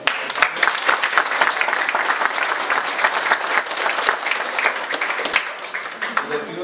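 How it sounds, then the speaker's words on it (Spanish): Steady applause from a sizable crowd at a senior citizens' week event, dense and continuous clapping that carries on for several seconds before gradually thinning slightly. "También les pido un aplauso"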